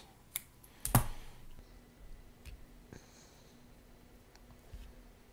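A part trimmed during assembly of a Godzilla V2 RDA rebuildable atomizer: one sharp, close cutting snap preceded by a small click, then a few faint taps and clicks in a quiet room.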